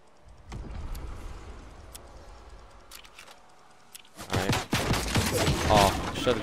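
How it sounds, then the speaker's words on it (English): Video game gunfire in a battle royale match with friends, a few scattered distant shots giving way after a pause to a loud close burst of rapid continuous fire. "Here, start shooting."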